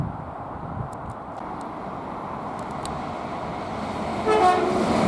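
At Milton Keynes Central railway station, an Avanti West Coast train rumbles past steadily at moderate distance, and a faint horn-like tone rises near the end.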